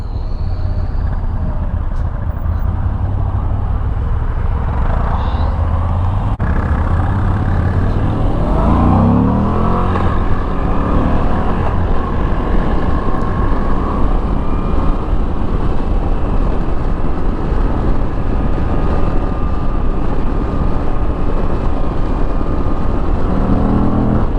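A 2022 Moto Guzzi V85 TT Guardia d'Onore E5 motorcycle is ridden at a steady pace. Loud, continuous engine drone and wind noise hold throughout, with a brief rise in revs partway through.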